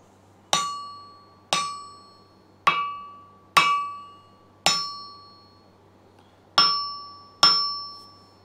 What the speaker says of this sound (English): One way of telling, let's get an hammer, is it'll have that nice ring to it.